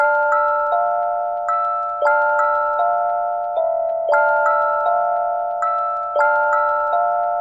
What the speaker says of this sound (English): that was a heater bell from the Nebula one-shot pack by Daniel Taylor and Prod 2.